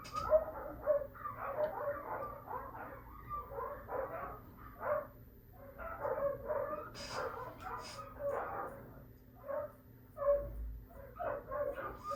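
Several dogs at home bark, yip and whimper excitedly at once in a long, busy, uneven run of sound. Their noise rises and falls at a moderate distance, with no one talking over it.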